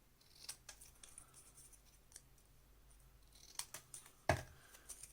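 Paper edges for an envelope mini album being tapered with scissors: a few quiet snips and scratchy cuts spaced irregularly, with one sharper close cut near the end, no talking.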